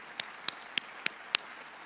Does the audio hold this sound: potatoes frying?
no